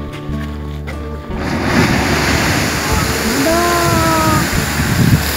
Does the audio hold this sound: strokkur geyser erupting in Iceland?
yes